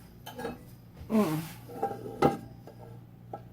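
Several light clanks and knocks of small metal pans being picked up and set down close by, spaced irregularly over a few seconds.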